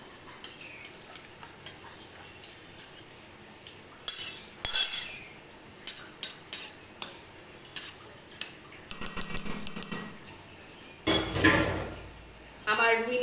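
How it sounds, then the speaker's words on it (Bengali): Rohu fish curry is poured and scraped from a cooking pot into a serving vessel, with clattering metal utensil knocks and scrapes in bursts, close and fairly loud, ending with a wet pouring rush. "এটা আমি এবারে এখানে ঢেলে নিচ্ছি পাত্রতে"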